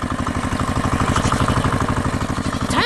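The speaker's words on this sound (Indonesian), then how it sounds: "Traktor hijau bergerak santai di tepi sungai" A green farm tractor's engine runs steadily by a riverside, a close, continuous mid-pitched chugging with an even rhythmic pulse throughout.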